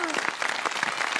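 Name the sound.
audience applause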